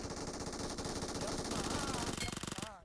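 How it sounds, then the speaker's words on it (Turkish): Rapid bursts of automatic gunfire from an enemy in the mobile battle royale game PUBG Mobile, loud and continuous, with dense shot rhythms for nearly three seconds before cutting off. "Bak bana sıkıyor."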